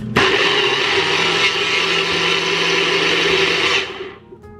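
A blender runs at full power on hot carrot ginger soup, a loud steady whir lasting about four seconds before it quickly winds down.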